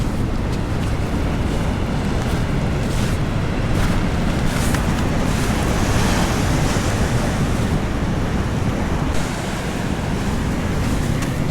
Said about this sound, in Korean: 파도가 막 올라오고 있어